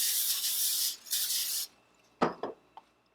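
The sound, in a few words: cooking spray sprayed onto pan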